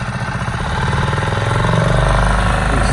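A Riviera 3600 Sport Coupe boat engine runs in gear on old gasoline, a steady close-up low rumble that grows slightly louder and fuller partway through and continues without pause.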